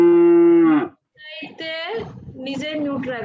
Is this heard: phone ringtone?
no